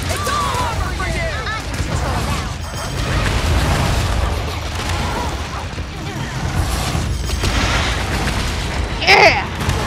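A bomb detonates during a hunt in Monster Hunter Rise. Heavy, booming blasts and crashing impacts fill the clip loudly, with a voice talking over the action.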